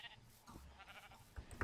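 A Minecraft sheep bleats faintly in a few short, quiet calls, with no talking.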